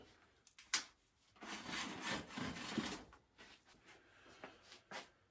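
A budget 27.2 mm bike dropper seat post slides into the frame with a sharp click and then a few seconds of quiet scraping friction, followed by softer rubbing.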